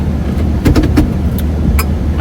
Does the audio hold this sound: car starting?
yes